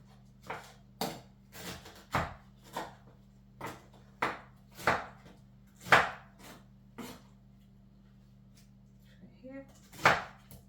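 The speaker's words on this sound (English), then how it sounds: "I'm gonna just put it over here in the bowl and just cut it like so." A knife cuts fruit into chunks in a bowl, making a dozen or so quiet, evenly spaced chopping taps over a low background hum, with no talking.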